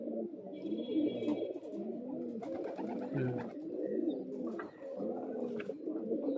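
Several Madrasi pigeons coo close by in overlapping, continuous low throaty phrases, joined by occasional faint higher chirps and light clattering noises.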